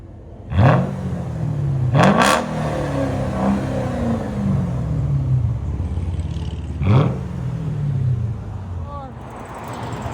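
A loud, close straight-piped 5.5L V8 engine of a 2007 Mercedes S 550 idles with a deep rumble and is revved sharply three times, each rev rising then falling back to idle.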